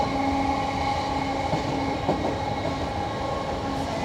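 Inside a South Western Railway carriage, a steady, loud rumble of wheels on rails carries on without a break, with faint rhythmic clicks over the track joints and no talking.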